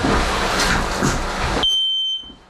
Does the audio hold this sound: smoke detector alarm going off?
yes